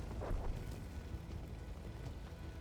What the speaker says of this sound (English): Randomly artillery hits me.